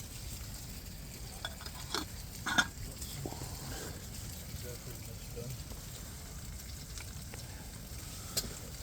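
Sausages and bacon frying on a camping stove at a wild campsite, a low steady sizzle with a few soft clinks and knocks of utensils, people talking nearby over it.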